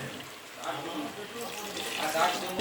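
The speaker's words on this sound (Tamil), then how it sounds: "அதில் தேவையான அளவு தண்ணி சேர்த்துக்கலாம்." Water runs and splashes steadily into a cooking pot, a soft continuous pour with some clatter, moderately close.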